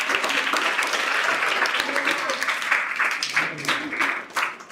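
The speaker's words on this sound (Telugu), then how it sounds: "ఆ పాప క్లాప్స్ కొట్టండి అంత" A room of children in a welfare hostel clap for a girl, a burst of brisk, dense applause that thins into scattered individual claps toward the end, close and loud, with voices talking over it.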